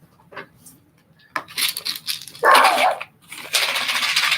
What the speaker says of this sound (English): She keeps on barking every time.